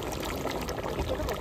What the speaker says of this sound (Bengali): দেবো একটু কেওড়া জল, দেবো একটু গোলাপ জল।